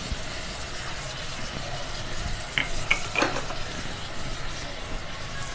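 Curry leaves go into onions frying inside a Wonderchef electric kettle, a steady soft sizzle with a few brief clinks of a spoon stirring around the middle.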